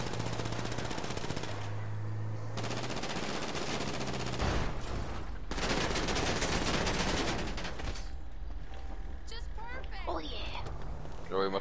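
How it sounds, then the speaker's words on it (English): Rapid video game gunfire aimed at car tires, dense bursts of automatic shots in the first half with engine hum underneath, then sparser sounds; voices talk throughout. "I'm shooting, I'm gonna shoot their tires out."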